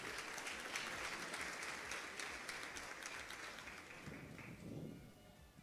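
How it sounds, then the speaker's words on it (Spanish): Audience applause welcoming a contestant at a national English singing and spelling festival, a steady wash of clapping that is fairly faint and distant, tapering near the end. "La recibimos con un fuerte aplauso."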